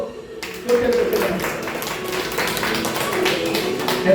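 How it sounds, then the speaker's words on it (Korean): Applause from a church congregation at an evangelism sermon, steady clapping from many hands rising after a brief pause and continuing throughout, with a voice speaking over it. "박수!"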